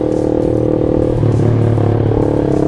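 A modified Yamaha Jupiter MX motorcycle engine rumbles loudly up close, its loud aftermarket exhaust burbling steadily with slight shifts in revs.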